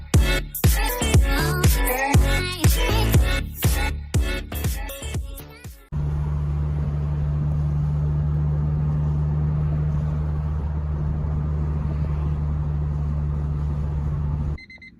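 A Honda Civic-era car drives along with a steady engine hum and road drone lasting about nine seconds, after a stretch of loud music at the start.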